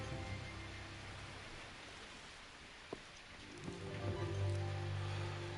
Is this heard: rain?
yes